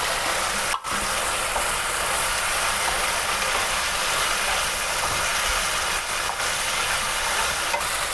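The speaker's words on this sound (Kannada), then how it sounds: "ಇದು ಒಂದು 2 ನಿಮಿಷ ಫ್ರೈ ಆದರೆ ಸಾಕು" Onion, capsicum and tomato strips fry together in a pan, giving a loud, steady, close sizzle that runs unbroken for the whole stretch with no talking.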